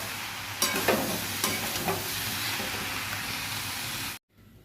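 Spices sizzle in a pan while being stirred, giving a steady close-up frying hiss with a few scraping stirs early on, before cutting to near silence at the end.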